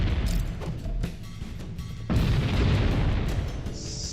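Explosions go off in Halo: Combat Evolved on the 343 Guilty Spark level, with a loud boom near the start and another heavy blast about halfway through, each followed by rumbling debris.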